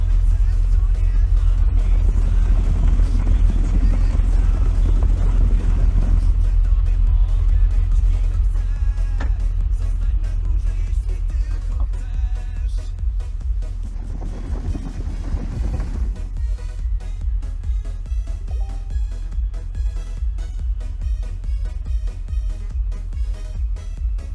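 A steady low engine rumble drones throughout from a tractor running nearby during an autumn potato harvest in Poland, with occasional faint clunks and a brief voice in the background.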